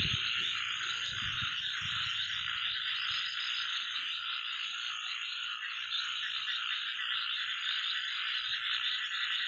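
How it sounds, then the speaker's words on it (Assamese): Frogs croak at night in a dense, steady chorus that runs unbroken throughout, with a faint low rumble early on and no voices. "ভেকুলী মাতবিলাক শুনি ৰাতি ভাল লাগে"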